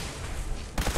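Dense gunfire rattles in the video game Fallout 4, a loud continuous fusillade of rapid shots with a sharper burst at the close.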